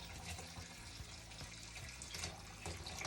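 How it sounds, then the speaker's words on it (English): Chicken broth pours out of a quick cooker pot in a steady liquid splash and trickle, with a few soft knocks and drips, close and fairly quiet. "I'm pouring chicken broth out"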